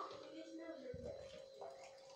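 Water pours briefly and faintly into a blended juice of lemons and apples, a soft splashing trickle over a low background.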